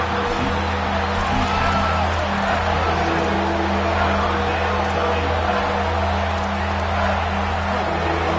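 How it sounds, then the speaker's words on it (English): Stadium crowd noise from the College Football 27 video game, San Diego State at UCLA on a third down, a steady, loud roar of cheering fans sustained throughout with no pauses. "Decibels rising as the crowd gets behind this defense on 3rd down."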